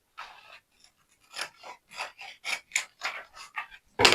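Scissors snipping through t-shirt cloth, a quick series of close, crisp cuts in a steady uneven rhythm with brief pauses between them, ending on a louder rustle.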